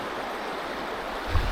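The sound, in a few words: river water flowing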